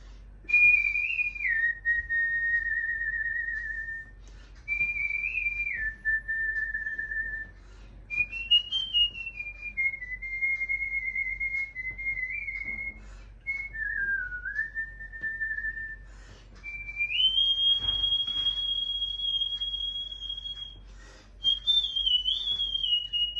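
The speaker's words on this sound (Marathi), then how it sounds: "तोंडाने शिट्टी वाजवून त्याच्यामध्ये गाणे बोलतात." A man whistles a Marathi song by mouth, a clear solo melody of sustained pure tones with gliding pitch, phrased in long lines separated by short breaths, close and alone with no talking.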